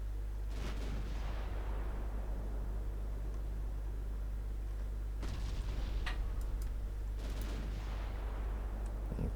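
10.3 inch naval guns firing in the naval warfare game Ultimate Admiral: Dreadnoughts, heavy booms rolling out over a steady low rumble of sea and engines, spaced a few seconds apart.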